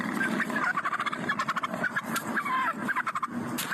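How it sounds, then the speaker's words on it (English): An aggressive turkey gobbling during a police traffic stop, a loud close run of rapid rattling gobbles repeated in bursts across the whole stretch. "Here's a police officer fighting off an aggressive turkey during a traffic stop."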